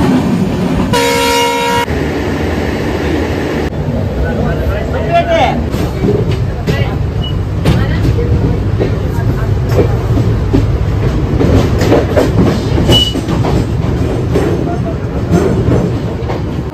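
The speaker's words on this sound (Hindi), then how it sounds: "भाई ट्रेन को तो रुकने दो" A train rolling past close by with a steady heavy rumble and clatter, a brief horn blast near the start, and people talking over the noise.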